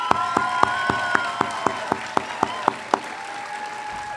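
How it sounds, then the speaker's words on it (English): Clapping for two award winners at an education awards ceremony in the School District of Manatee County, about a dozen evenly spaced claps over a low steady hum, with no talk. "And one big round of applause to our two winners,"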